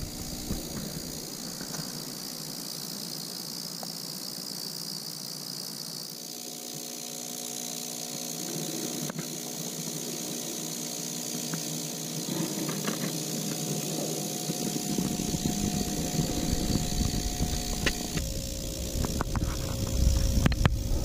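A Branson B200 ultrasonic cleaner switching on and running, a steady electronic hum with a thin high whine that shifts in tone partway through and grows slightly louder, close and alone.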